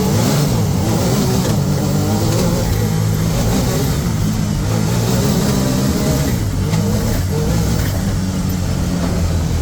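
A car drives off with its engine revving and accelerating, a loud, continuous mid-to-low engine drone with road noise filling the whole stretch, close-up and without speech.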